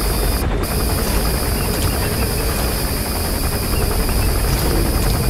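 Helicopter engine from the Metal Gear Solid 5: The Phantom Pain video game, a steady loud rotor and engine drone filling the whole stretch without speech, with one brief bright burst near the start.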